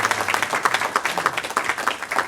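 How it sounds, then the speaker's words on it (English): Brief round of audience applause for conference panelists, a few seconds of moderate, rhythmic clapping from a seated crowd. "Let's give a quick round of applause for the panelists up"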